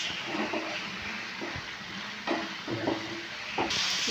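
Onions and ginger-garlic paste frying in a pan for chana masala give a steady close sizzle and hiss, with a few brief stirring scrapes and clicks breaking through.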